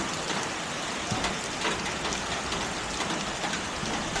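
Heavy rain pours steadily outdoors near a roadside shop, a dense continuous hiss of drops drumming on surfaces, with no voices.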